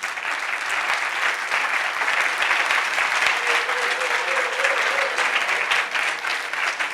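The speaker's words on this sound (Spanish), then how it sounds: "Les pido un aplauso, por favor, para él" Sustained applause from a seated audience honoring a columnist at a panel event, dense and steady for the full stretch, with a faint voice briefly audible beneath the clapping.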